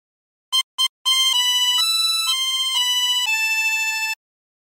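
A tremolo harmonica with 24 holes plays a short phrase of Bella Ciao: two quick separate notes, then a sustained, wavering melodic line of reedy tones. Loud and close, with no voices.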